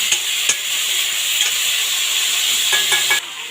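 Tomatoes fry in a pan with a little water, giving a steady close hissing sizzle with a few soft stirring knocks, cutting off abruptly near the end.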